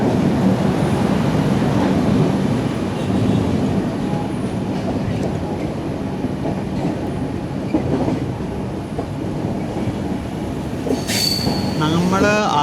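A Jan Shatabdi Express running with new LHB coaches rolls along the track, a continuous rumbling clatter of wheels with occasional squeals, heard close from on board and steady throughout.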